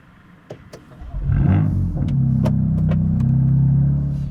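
A few clicks, then a BMW M2 CS sports car engine with an Akrapovic exhaust fires up and settles into a loud, deep, steady rumble close by.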